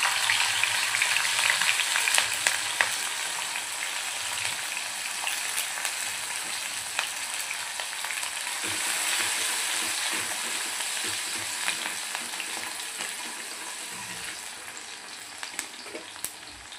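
Green chillies and cumin seeds fry steadily in hot oil, a continuous bright sizzle with scattered crackles and occasional spoon scrapes, close and fairly loud, with no voices over it.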